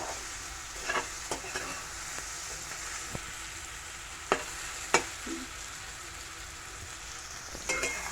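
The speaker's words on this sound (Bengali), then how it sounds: "মাছের মাথার সাথে এই মশলাগুলোকে একটু নাড়িয়ে চাড়িয়ে নেব" Fried fish heads are stir-fried with spices in a pan, giving a soft, steady sizzle broken by sparse clicks and scrapes of the spatula against the pan. The sound is fairly quiet and close.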